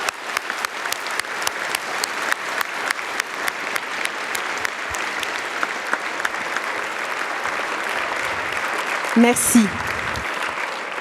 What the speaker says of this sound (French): Ces applaudissements sont pour vous